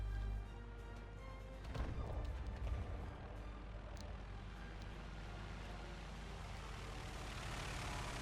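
Propeller aircraft engines drone steadily through a War Thunder battle, with a few distant artillery-like thumps early on and a continuous low rumble throughout; no talk.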